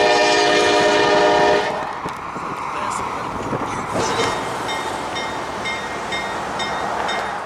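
Freight train M492 passing near a complex railroad crossing in North Florida or South Georgia: a loud, sustained horn blast for nearly two seconds, then a steady rolling rumble with repeated bell-like chimes ringing over it.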